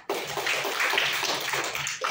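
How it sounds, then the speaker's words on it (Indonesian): A classroom of children claps together for a classmate, a dense, steady patter of many small hands lasting about two seconds, close and fairly loud, with a brief fresh burst at the end. "Bagus untuk Anggi, tepuk tangan."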